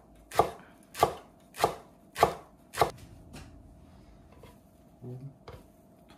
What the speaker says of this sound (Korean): 깻잎을 얇게 쳤습니다